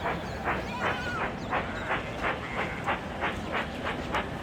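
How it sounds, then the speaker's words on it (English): A steam engine pulls empty express coaches into a station, with a steady rhythmic beat of chuffs and clacks over a dense rumbling background at moderate volume. "Rosie pulled into the station with some empty express coaches"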